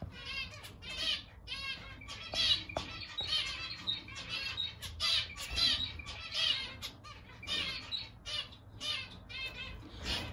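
Zebra finches and their chicks in a breeding cage keep up fast, high chirps and squeaky calls, with occasional wing flutters, close but fairly quiet.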